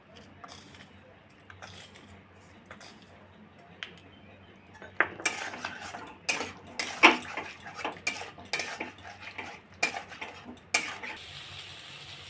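A spoon scrapes and clinks against a pan while stirring potato curry, sparse at first then in frequent close metallic knocks and scrapes, with faint background voices.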